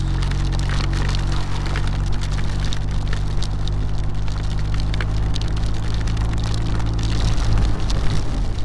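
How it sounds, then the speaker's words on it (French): Heavy thunderstorm downpour heard while riding a BMW R1250RT motorcycle, dense close rain pattering continuously over a steady low engine and wind roar. "c'est vraiment l'averse orageuse"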